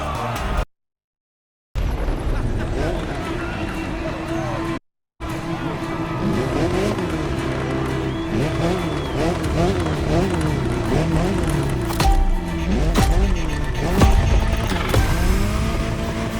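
A Jaguar CX-75 concept car drives in The Crew Motorfest, its engine droning steadily with rising and falling revs and a few tire squeals, under game music and voices, broken by two brief dropouts near the start.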